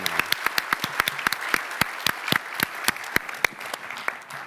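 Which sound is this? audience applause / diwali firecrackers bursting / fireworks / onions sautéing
audience applause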